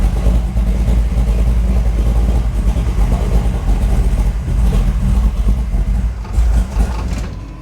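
Truck engine fitted with an Edelbrock VRS 4150 carburetor idling loud and close, a steady deep rumble with slight unevenness and small rises in revs, no talk over it.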